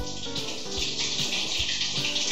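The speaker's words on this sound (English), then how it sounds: "All we need is just to fill it with fresh water." Fresh tap water runs steadily into a nearly empty shampoo bottle, a continuous close gushing hiss with a few soft knocks of the bottle, no talking.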